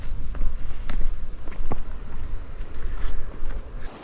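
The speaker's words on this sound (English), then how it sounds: "Oh, cicada." Japanese cicadas drone in a humid green forest on a path near a shrine, a loud continuous high buzzing that runs through the whole stretch while footsteps crunch underneath.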